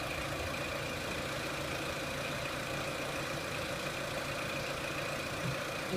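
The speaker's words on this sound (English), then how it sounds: "And it's idling quite nicely now" A Renault Clio 1.6 petrol engine idles steadily nearby, a smooth, even hum with a faint whine running through it and no voices.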